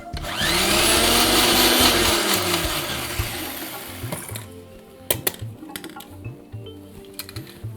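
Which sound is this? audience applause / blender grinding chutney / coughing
blender grinding chutney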